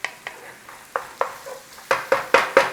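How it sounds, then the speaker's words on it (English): Onions for a rasher and black pudding stuffing fry in a pan in a pub kitchen, stirred in about ten sharp scraping strokes that come faster and louder toward the end, with a soft sizzle between them. "we're going to give them a little bit of a fry. You just want a couple of minutes on these onions"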